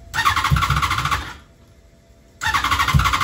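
An engine cranks and catches with a loud, rough, squealing run, dies out after about a second, then fires up again just as loudly, failing to settle into an idle.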